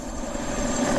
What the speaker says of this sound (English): that's the sound of my helicopter that I'm about to jump into